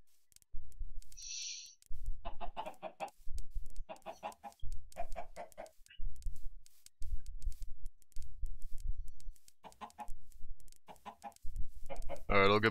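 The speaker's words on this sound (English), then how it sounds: "Come on, chickens." Minecraft chickens cluck in short, repeated bursts against a quiet background, close and moderately loud, with one brief high chirp near the start.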